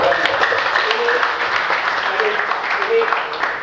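A church congregation at a year-end worship service applauds together, a dense sustained clapping wash with voices mixed in underneath.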